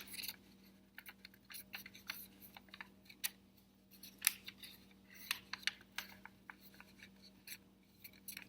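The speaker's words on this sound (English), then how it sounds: "And then this crease is going to go to the middle here, so folding that in." Origami paper being folded and creased by hand, giving soft, close, irregular crinkles and sharp little crackles against a steady low hum, with no talking.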